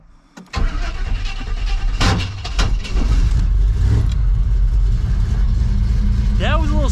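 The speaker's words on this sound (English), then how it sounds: "Yeah, it was a little starter grind." A project car's engine cranks with a brief grinding starter noise, catches and settles into a loud, rumbling idle with some revving, close by, while people talk over it.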